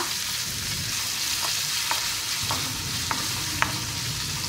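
Onions, green chillies, ginger and spices frying with urad dal in a pan for kuzhi paniyaram: a steady, even sizzle with a few light spoon taps against the metal, close and without speech.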